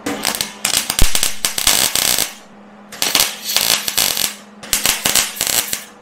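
Arc welding on rusty steel with a gap, loud crackling and sizzling in three long bursts separated by brief pauses, up close with a faint hum underneath.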